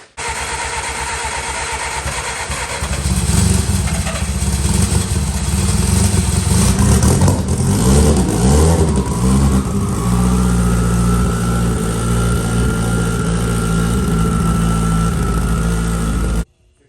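A race car engine cranks and catches, then roars and idles roughly for several seconds with a rising whine before cutting off abruptly.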